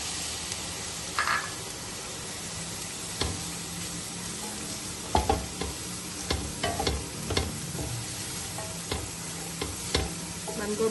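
Chicken and cabbage fry in a pan for Chinese kebabs, a steady low sizzle broken by scattered utensil clicks and stirring knocks, close up and without talk.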